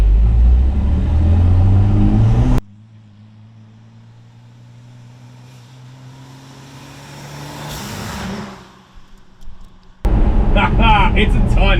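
Turbocharged six-cylinder engine in a 1983 GMC truck used as a shop rig: a steady low drone swells toward a rev near the end, framed by louder bursts of noise and voices at the start and finish.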